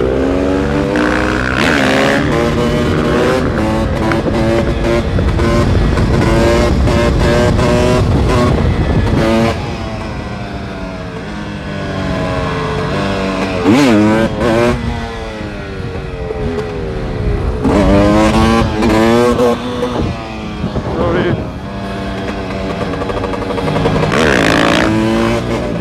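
A motorcycle revs hard and rides near and loud, its engine rising and falling through repeated acceleration sweeps and gear changes, with a brief easing off midway before pulling strongly again.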